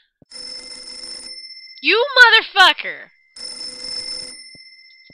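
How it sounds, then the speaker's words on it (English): An old telephone rings in the video game Mermaid Swamp, a steady electronic trill in two separate bursts. Someone shouts loudly between them. "Why'd the phone ring?"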